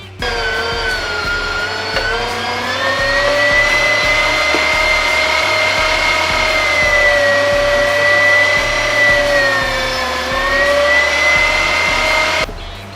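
An electric meat grinder runs continuously while grinding sausage meat during home butchering, a loud steady motor whine with a sustained pitch that sags and recovers under load before cutting off near the end.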